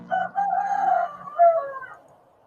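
A rooster crows close by, one drawn-out cock-a-doodle-doo rising and then trailing off over about two seconds, clear and loud against a quiet background.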